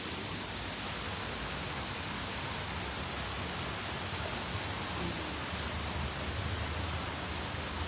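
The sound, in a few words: heavy rain at a church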